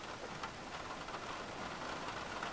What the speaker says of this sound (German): Und es hat einfach so krank angefangen zu regnen.